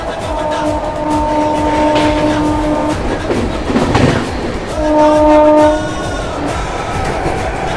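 A Shatabdi Superfast Express train running from Pune to Hyderabad Deccan sounds its horn in long sustained blasts over a loud, continuous rumble and clatter of wheels on rails, close by and without speech.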